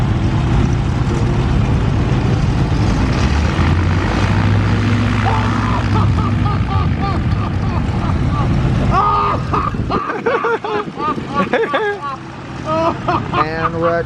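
A propeller plane with a 300 hp Lycoming engine runs at an airshow, a steady droning roar throughout, with an announcer talking over it and the engine note shifting near the end.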